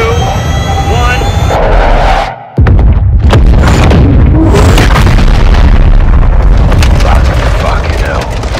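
A missile strike explodes in the Call of Duty Modern Warfare II campaign, with a brief dropout before a loud, sustained boom and rumbling blast that continues with crackling debris.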